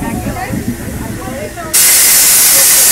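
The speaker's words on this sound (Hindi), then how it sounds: "यही ब्रेक प्रेशर की आवाज़ है जिसके कारण से ट्रेन अब रुक चुका है।" A sudden, loud, steady air-brake hiss bursts out partway through and holds, as pressure vents after an emergency chain pull in the general coach of the Howrah–SMVT Bengaluru Superfast Express 12863. Before it come the rumble of the moving train and background voices.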